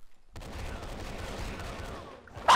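Sustained gunfire in the online shooter Rush Team, a steady rattling stream of shots for about two seconds, close and loud, ending in a sharp burst.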